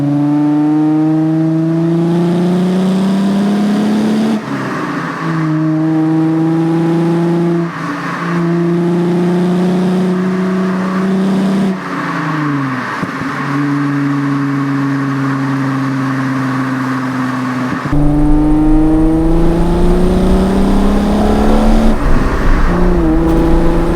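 A factory-exhaust manual sports car drives on fresh tires, its engine rising in pitch through repeated gear pulls with brief dips at each shift, loud and continuous with no talking.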